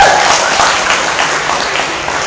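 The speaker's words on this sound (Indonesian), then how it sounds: "tepuk tangannya dong sekali lagi" A talk show audience at an Islamic fair applauds briefly, a loud wash of clapping that tapers off slightly.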